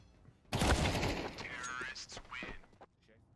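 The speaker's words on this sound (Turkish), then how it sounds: "Ve M-Star Dagi'yi vurdu" Rapid gunfire bursts from the Counter-Strike 2 video game at a Turkish esports league match, crackling loudly and mixed with excited commentary over the shots.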